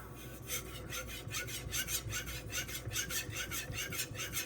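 A knife is drawn in steady, rhythmic strokes across a Suehiro Debado whetstone of 600 or 1500 grit, giving a quiet repeated rasping scrape about twice a second. No voices.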